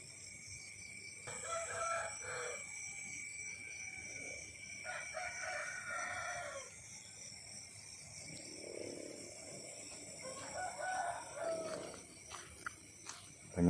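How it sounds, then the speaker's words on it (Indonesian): Several roosters crow back and forth in the distance at midnight in a village, one call after another over a quiet night background with a steady insect hum. "terdengar banyak ayam jago yang bersautan."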